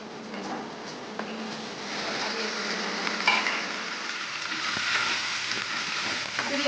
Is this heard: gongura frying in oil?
yes